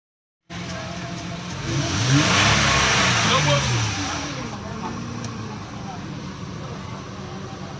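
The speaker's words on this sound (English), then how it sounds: "So these were all the things I fixed, and the vehicle starts revving again." A car engine that had been stuck below 3,000 RPM revs hard after repair, climbing to a loud roaring peak before easing back to a steadier, lower drone, with no talking.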